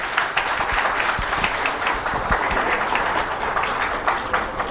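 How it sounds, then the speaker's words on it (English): Audience applause after a presentation on river rejuvenation, a loud, full burst of many people clapping with distinct individual claps standing out, sustained throughout. "Big round of applause for him."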